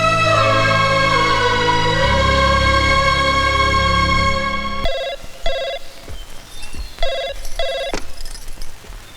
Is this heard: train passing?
no